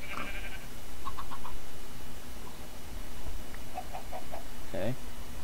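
Minecraft farm animals in the Magicfarm modpack, with a sheep among them, let out a few short, scattered bleats over a steady hiss of game ambience, and one bleat stands out clearly near the end.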